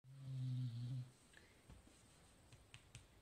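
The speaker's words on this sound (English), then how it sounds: "Doggy snoring at the side of me." A dog snoring close beside someone knitting, one loud low rumbling snore that fades after about a second, followed by faint quiet clicks and soft breathing.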